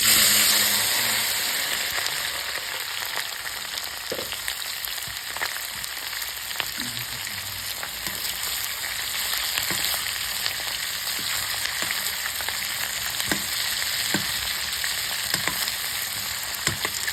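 Drumstick pods dropped into hot oil for a homemade pickle give a steady, loud sizzling hiss with scattered pops and crackles that carries on throughout, with no voices.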